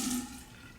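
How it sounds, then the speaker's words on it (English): Hot water poured onto a puck of shaving soap in a bowl, a brief faint trickle and splash that fades quickly. "I'm just going to put a little hot water on top of it."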